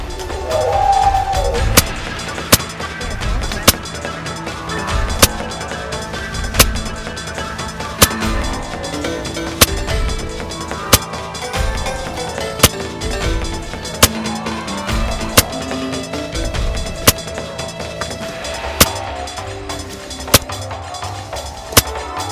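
FX Impact air rifle with a 10x scope firing 23 grain cup base slugs: a long string of sharp, evenly spaced shots, roughly every one to two seconds, over a busy outdoor background.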